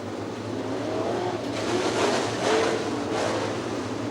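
USRA B Mod race cars coming around the track under yellow, engines droning and rumbling at a distance, with a couple of louder swells as cars pass closer.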